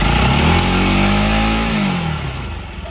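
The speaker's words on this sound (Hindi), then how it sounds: "देखो स्टार्ट करते हैं इसकी स्पीड अपने आप बढ़ जाती है" A Bajaj NS 200 motorcycle engine, just started during a coolant change, revs up on its own, a loud close whine climbing in pitch then settling back as the idle drops.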